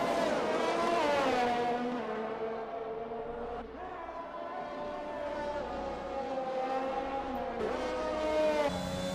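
Engines of race cars in a sim racing game of the Saudi Arabian Grand Prix whine through rising and falling gear changes as cars jostle for position, steady and fairly faint throughout.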